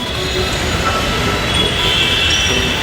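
Busy Mumbai street near a metro, with a passing train's loud steady rumble and high wheel squeal filling the whole stretch, close and without talk.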